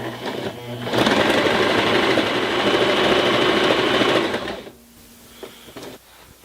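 A Janome 2212 sewing machine runs a decorative stitch in one steady, fast, close burst of about four seconds, then stops and leaves a few faint clicks and handling sounds.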